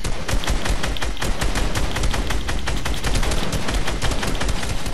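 Rapid gunfire bursts in a video game, dense overlapping automatic shots and single cracks firing continuously and loudly throughout with no pauses.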